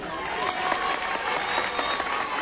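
Audience clapping steadily at an honoring ceremony at a festival, a dense continuous patter of many hands held at even loudness throughout, with no voices standing out above it.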